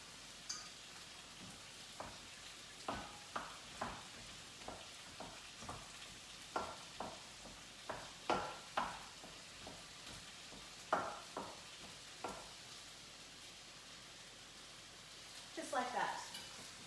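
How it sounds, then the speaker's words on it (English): Ground beef sizzles quietly in a skillet while a utensil stirs and breaks it into crumbles, with repeated scraping strokes about once a second over a soft, constant hiss. "I'll just pop the ground beef into the skillet, and then I'm going to stir it this way, and it's going to break it up into the finest little crumbles"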